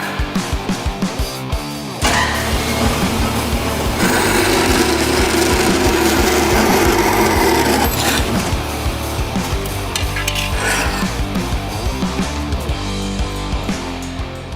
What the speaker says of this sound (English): So I'm going to have to cut my mounting plate a little at an angle on one side.